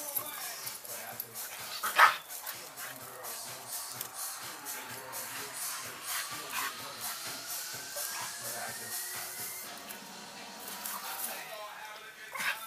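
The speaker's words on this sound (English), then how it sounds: "Yeah, I have no idea what kind of dog that is." A dog barks and yips among shuffling movement, with one sharper bark standing out near the start, while voices talk over much of the scene.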